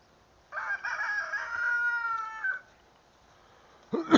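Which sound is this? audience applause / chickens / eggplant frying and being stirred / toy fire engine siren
chickens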